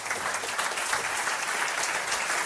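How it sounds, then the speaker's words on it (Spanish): A studio audience on a Spanish-language television talk show applauds loudly and steadily, a dense wash of clapping filling the whole stretch with no talk over it. "pido un aplauso a Josep Guijarro."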